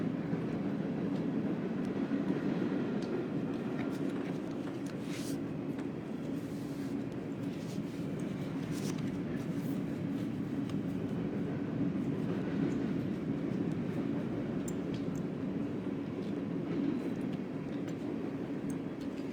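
A loud freight-type train passes continuously, a heavy low rumble with scattered metallic clanks and squeals over the wheels' rolling drone, steady for nearly twenty seconds.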